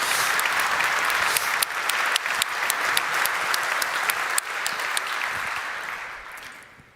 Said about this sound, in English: Also, a little bit of clap for Andreas